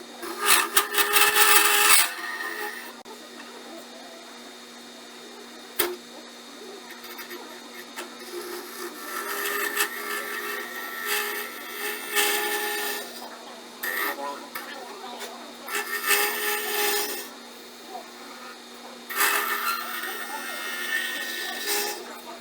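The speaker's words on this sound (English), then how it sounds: "You just use that scraper to clean out and smooth out your opening." A hand scraper smooths the inside opening of a wooden acorn box on a lathe, giving bursts of scratchy, raspy scraping over a steady lathe hum, with faint talk in places.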